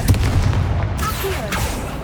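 Spell explosions in Hogwarts Legacy, deep booming blasts rolling together in a loud, dense continuous rumble with a voice calling out over it.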